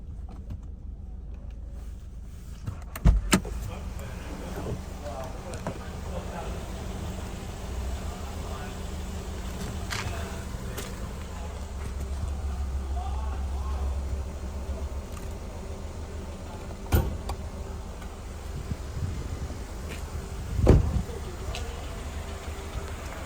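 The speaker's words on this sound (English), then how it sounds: "So we'll pop the hood now while we have the car running." A 2018 Subaru Outback 2.5i AWD wagon idles with a low, steady engine hum while a few sharp clunks and knocks mark the hood being opened, and a person talks over it.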